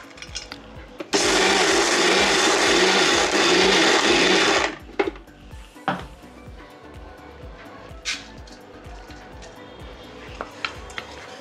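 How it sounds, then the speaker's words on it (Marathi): A loud mixer grinder coarsely grinding roasted peanuts whirs in a steady burst for about three seconds, then stops abruptly, followed by faint clatter and kitchen sounds. "मिक्सरला फिरवून घ्यायचे शेंगदाणे"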